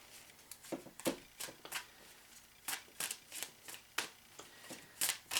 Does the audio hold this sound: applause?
no